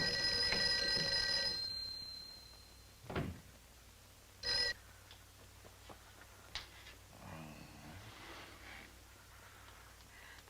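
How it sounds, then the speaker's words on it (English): An old telephone bell rings in a 1959 office building with no one answering, a bright rattling ring for the first second and a half, then quiet broken by a couple of soft thumps and faint shuffling. "see if you can get Jan on the phone"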